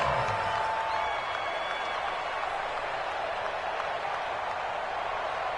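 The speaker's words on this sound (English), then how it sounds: "the crowd getting into it as we come up on a big third down" Stadium crowd in the football game Madden 20 roaring in a steady, dense wash of cheering and clapping ahead of a big third down, with no break across the whole stretch.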